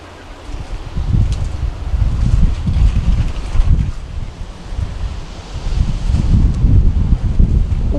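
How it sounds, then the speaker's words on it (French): Strong gusts of wind buffet an outdoor garden in heavy, rumbling waves, swelling and easing over several seconds with no other clear sound above them. "Ouh, il y a pas mal de vent, hein."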